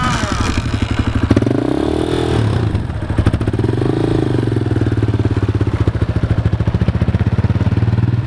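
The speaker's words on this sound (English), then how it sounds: "you got to keep the bike on when you come to a stop" A Raptor 250 engine runs steadily and loud nearby while a child rides it, a rough continuous rumble with the pitch rising and falling slightly as the throttle changes.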